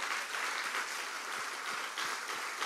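A church congregation applauds in praise during a Christmas worship service, a steady, dense wash of clapping that holds evenly throughout at moderate loudness with no talk over it.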